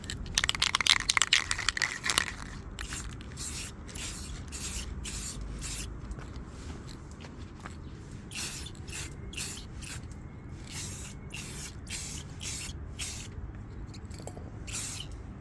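An aerosol can of lens tint sprays a light coat onto a car tail light in short, repeated bursts of faint hissing, each a second or less, after a busier rattling start.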